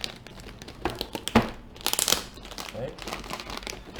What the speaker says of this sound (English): take this out from the plastic bag.